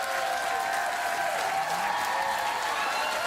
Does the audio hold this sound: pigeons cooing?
no